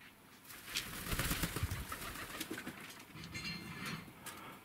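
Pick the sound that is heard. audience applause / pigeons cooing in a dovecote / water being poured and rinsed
pigeons cooing in a dovecote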